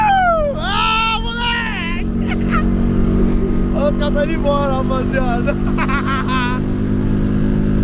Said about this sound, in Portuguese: ninguém sabe que é um motor de moto